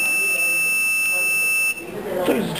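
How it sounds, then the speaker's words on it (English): A smoke-triggered buzzer on a voice-activated multipurpose robot sounds as a steady high electronic tone for most of the moment, cutting off partway, followed by brief rustling and a voice. "now you see the buzzer. So check out the smoking."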